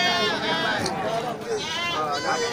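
Goats bleating at a crowded goat market, with several wavering, harmonic cries overlapping close by amid steady crowd noise and people talking.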